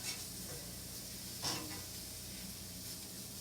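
Stuffed eggplant grilling in an oven, a faint, steady hiss with one brief louder burst of sizzle and no voices.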